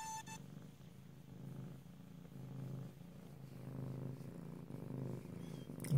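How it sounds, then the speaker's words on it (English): A cat purrs steadily and continuously, a low rumbling drone that stays close and unbroken from start to finish, with no talking. "What purrs?"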